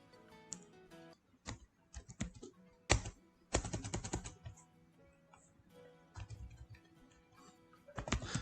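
Fingers typing VBA code on a computer keyboard, quiet bursts of clicking keystrokes in irregular clusters separated by short pauses, with no talking.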